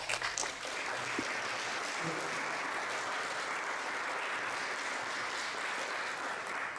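A church audience at a talk on prayer applauds for a visiting parish priest, a steady, even wash of clapping filling the whole stretch, moderately distant and unbroken.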